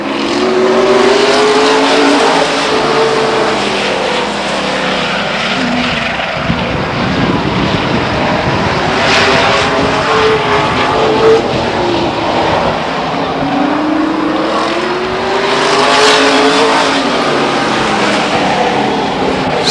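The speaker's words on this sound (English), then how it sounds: "Jason Philpott awfully fast in that number 5 car." Race cars roar around the oval at Stockton 99 Speedway, loud engine notes rising and falling steadily as the pack sweeps past and away again.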